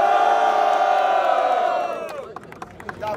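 A crowd at a Brazilian freestyle rap battle roars with sustained cheering and shouting that fades after about two seconds, leaving scattered claps and calls.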